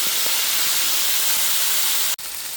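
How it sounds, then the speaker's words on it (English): Chicken sizzles loudly in a pan with lemon juice and cheese, a dense, steady frying hiss that breaks off for an instant near the end before resuming. "Look at that excellent sizzling."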